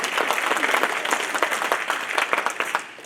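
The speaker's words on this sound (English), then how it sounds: "you can clap." Scattered audience clapping at an annual general meeting of a Métis council, distinct individual claps in an uneven rhythm from a modest crowd, lasting a few seconds before tapering off.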